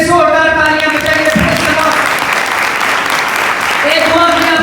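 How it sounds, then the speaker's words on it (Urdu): A church congregation in Youhanabad bursts into loud, sustained clapping for several seconds, with a voice and tonal sounds heard over the applause at the start and end. "خدا کے لیے زوردار تالیاں بجائیے"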